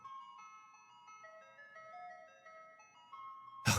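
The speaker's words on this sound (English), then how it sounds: "it sounds like there's an ice cream truck outside." An ice cream truck's tinkly electronic jingle plays a simple melody from outside, thin and moderately distant, ending in a brief burst of noise.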